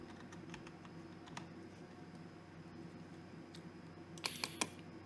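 A computer keyboard typing a short word into SAS code, heard as faint scattered keystrokes over a low room hum, then a quick run of three sharper, louder clicks near the end; nobody speaks.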